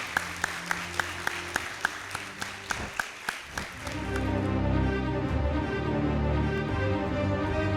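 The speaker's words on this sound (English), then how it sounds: "I believe all teams deserve another hearty round of applause." A few sharp, evenly spaced claps ring out at a school debate show, then give way to a swelling burst of music that carries on to the end.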